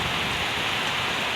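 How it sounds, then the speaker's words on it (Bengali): Heavy rain pouring down outdoors near banana trees, a dense unbroken hiss of drops on surfaces, loud and close with no voices. "অনেক জোর বৃষ্টি, অনেক।"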